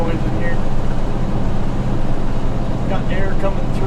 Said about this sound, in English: Definitely lots of wind noise in here.